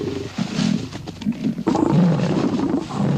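Male lions roar and snarl as they fight over a lioness in the African wild, with harsh, overlapping growls and bursts of roaring that swell louder toward the end, close and continuous.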